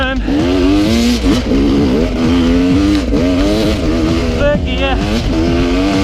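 RR300 enduro motorcycle engine revving hard uphill on a dirt trail, loud and close, pitch climbing and dropping through gear changes while a rider talks over it.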